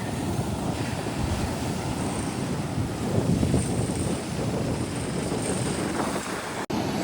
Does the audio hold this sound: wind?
yes